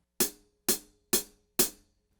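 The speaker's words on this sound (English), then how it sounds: "we're playing with the tip of the stick on the top of the cymbal to get this type of a" A cymbal struck with the tip of a drumstick on its top, four evenly spaced bright pings with short shimmering decays, played alone.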